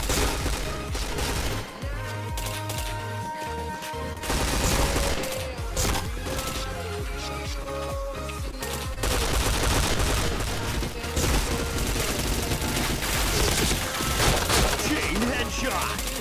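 Rapid headshot gunfire in the shooter game Point Blank: dense, continuous volleys of shots layered over game sounds, loud and unbroken throughout.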